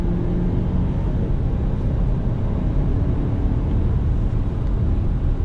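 A 2021 Mazda CX-9 Signature SUV pulling under throttle, a steady low engine and road rumble filling the cabin at an even, unbroken level with no voices.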